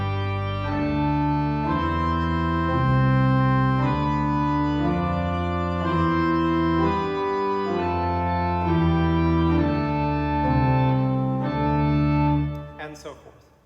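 A pipe organ plays two voices in canon from Dupré's Ave Maris Stella, sustained chords shifting in steady note changes, full and resonant, before the sound cuts off abruptly near the end.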